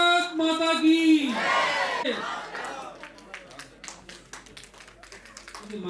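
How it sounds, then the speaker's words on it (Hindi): A crowd at a blanket distribution drive lets out a loud shout, then breaks into scattered rhythmic clapping that carries on at moderate volume. "लगातार तालियां होनी चाहिए"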